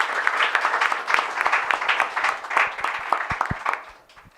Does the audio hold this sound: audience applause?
yes